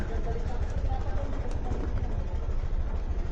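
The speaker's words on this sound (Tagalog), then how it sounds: "Enda natin ang ating mga motor." Several motorcycles idle together as riders get ready to set off, a steady, close, low rumble that holds evenly throughout with no revving.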